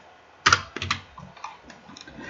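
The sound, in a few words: typing mother's name on a computer keyboard into online form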